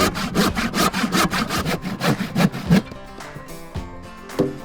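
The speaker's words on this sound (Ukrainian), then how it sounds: "за допомогою ручної пилки робимо підгонку" A hand saw rasps through a fully dry wooden board in quick, steady back-and-forth strokes, loud and close, then stops, leaving a few light knocks.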